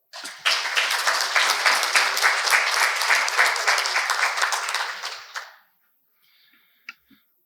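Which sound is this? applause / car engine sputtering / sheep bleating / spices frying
applause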